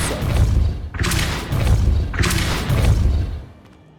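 Depulso spell impacts in the game Hogwarts Legacy, three loud, close, heavy thuds with booming rumbling tails, spaced about a second apart, fading to quiet at the end.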